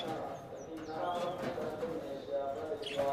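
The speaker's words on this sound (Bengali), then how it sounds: "এই দেখুন লালদমা পায়রা" Laldama pigeons cooing in a pigeon loft, with soft low coos and a few faint chirps close by under some background voices.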